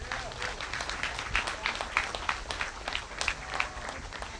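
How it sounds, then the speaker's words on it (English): An audience applauds for an event chair at a yearly sculpture weekend, a dense, steady round of clapping that carries evenly through the whole stretch with no talk over it. "so let's give her a round of applause"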